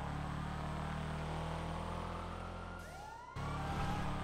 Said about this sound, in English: There's a guy with an ambulance on the airport track with us.